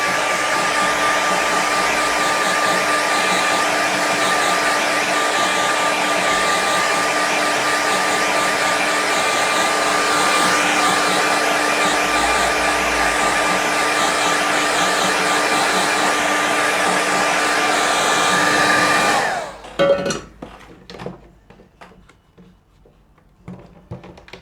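A hair dryer blows steadily and loudly across a watercolour sky painting for about nineteen seconds, then switches off, leaving only faint rustling and handling noises.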